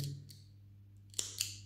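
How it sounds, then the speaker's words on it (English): Worn scissors snipping crochet thread, two quick close crisp cuts near the end after a faint earlier snip, over a low steady hum. "And my scissors giving up on me."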